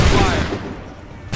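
A massed musket volley in Assassin's Creed III, a dense crack of many shots fired together that rolls out into a fading rumble, then a brief sharp noise at the very end.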